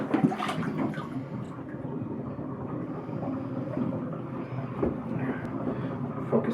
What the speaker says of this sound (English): hear it draining quickly, and it's going down pretty quick